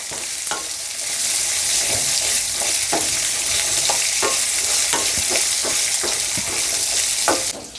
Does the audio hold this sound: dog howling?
no